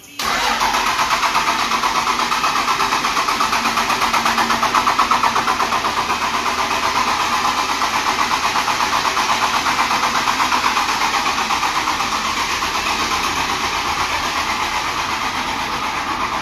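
A 12-valve Cummins diesel in a red dually truck, fitted with a new fuel pump, cranks and catches, then settles into a loud, steady, clattering idle that runs close and continuous.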